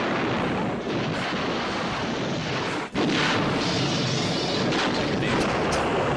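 Explosions from a Sean Connery-era James Bond film, a dense continuous roar of blasts and rumbling debris with a sharp crack near the middle, loud and sustained.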